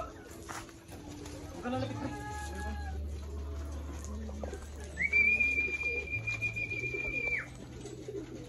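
Racing pigeons arriving at the loft after a 208 km derby from Pasacao, Camarines Sur, with soft coos and wing sounds under a man's excited calling, plus a steady low hum and a sustained high whistle tone midway.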